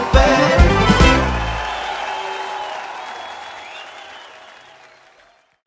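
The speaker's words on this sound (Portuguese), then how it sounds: "Batam as palmas, batam o pé." An audience at a live concert bursts into loud clapping that gradually thins and fades over several seconds.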